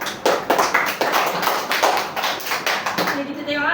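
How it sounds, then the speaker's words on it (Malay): Classroom applause from pupils, a burst of quick, uneven hand claps and taps lasting a few seconds, fairly close, before fading into quiet with a faint voice. "Lagi tepukan dekat Amal dengan Aira"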